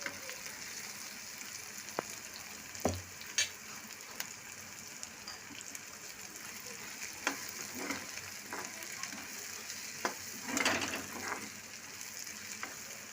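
Masala for a spicy Maggi noodle dish fries quietly in a pan, with a low steady sizzle and occasional sharp ticks and scrapes as it is stirred, growing louder briefly near the end.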